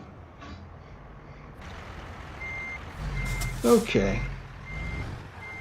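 Reverse-warning beeps from a semi truck backing up in American Truck Simulator repeat steadily at moderate distance over engine idle, with a hiss of air brakes midway and someone briefly speaking.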